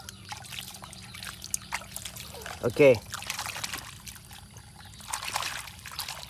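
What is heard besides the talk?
water being poured to clean toy vehicles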